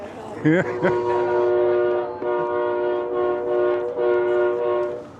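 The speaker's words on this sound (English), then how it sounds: "That was a train whistle" A loud, sustained train whistle sounds with a steady tone, briefly breaking and resuming, close and prominent throughout.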